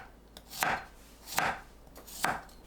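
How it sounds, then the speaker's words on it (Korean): Garlic being sliced with a knife on a cutting board, three crisp, evenly spaced chopping taps close by in a quiet kitchen. "마늘은 편으로 썰어줍니다."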